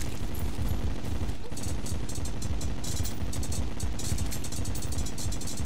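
A coin gun in Terraria fires silver coins in a dense, rapid stream of crackling shots that runs continuously and loudly amid layered game sounds.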